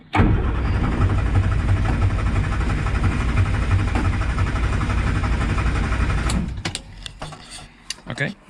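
A 1967 Morris Minor engine cranks steadily for about six seconds with a loud, continuous starter drone without firing, then cuts off, leaving a few scattered clicks and knocks.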